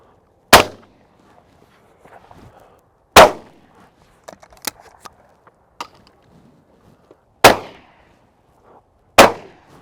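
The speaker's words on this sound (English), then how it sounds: "Oh, two lovely shots." Two sharp, loud shotgun blasts at pigeons over a rape field ring out alone, followed later by more distant-sounding shots and faint field rustle between them.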